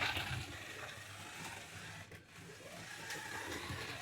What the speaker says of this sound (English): And it's still running the original old motor from the 80s.